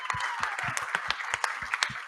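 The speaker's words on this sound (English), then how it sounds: "give this man a round of applause" A studio audience applauds, with steady dense clapping and a few sharper claps standing out, running throughout at moderate loudness.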